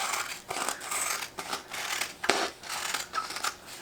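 Scissors snip through adhesive stabilizer backing on a denim jacket, a series of quick, close, crisp rasping cuts with brief pauses between them.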